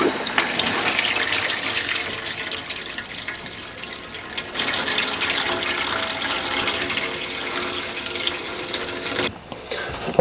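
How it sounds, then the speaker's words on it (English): Water rushes and spits from a motorhome tap as compressed air drains the pipes during winterising, a loud close sputtering gush that surges, briefly dips, then continues before cutting off. "whenever all the water comes out of this particular pipe there will be quite a large spit"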